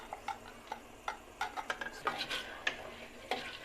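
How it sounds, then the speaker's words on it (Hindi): Soaked whole masoor lentils fry in a pot, with a spoon stirring and scraping and irregular clinks and taps of metal on metal over a soft sizzling hiss. "अब इसमें 4 से 5 मिनट में मसरों को फ्राई करूँगी अच्छी तरह।"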